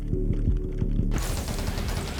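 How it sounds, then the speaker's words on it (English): Frozen enemies shatter and explode in the video game 20 Minutes Till Dawn, heard as a dense, rapid burst of overlapping blasts that swells into a continuous crackling barrage. "So now enemies explode when they're frozen."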